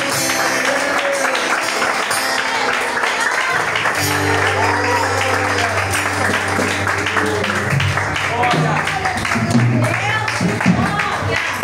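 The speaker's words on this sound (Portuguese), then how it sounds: "E quantos crentes digam aplauda Jesus esta noite." A church congregation applauds throughout a service, with steady mixed clapping and crowd noise running under voices, and some sustained instrumental or sung tones coming in partway through.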